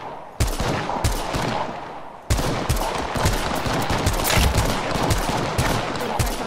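Automatic gunfire in the video game Apex Legends, dense rapid bursts of shots that start abruptly, pause briefly, then continue loud and close for several seconds without talk.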